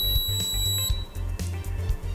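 A high-level alarm on a Dazzle sump controller sounds as a steady high-pitched electronic tone over a pulsing low mechanical hum, close and moderately loud, ending after about a second.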